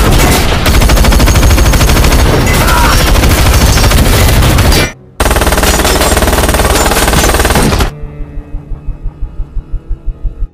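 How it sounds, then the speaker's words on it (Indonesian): Gunfire in an action film: dense, loud bursts of machine-gun fire and rapid shots that cut out briefly, then resume and thin into a string of separate, evenly spaced shots. "Edge pun akhirnya tumbang setelah dihujani tembakan oleh Bullet."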